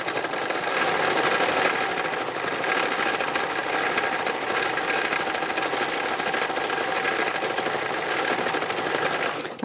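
A sewing machine stitches fabric for a phone case, running in a fast, continuous mechanical chatter of rapid needle strokes with a steady motor hum, close and fairly loud, without any talking.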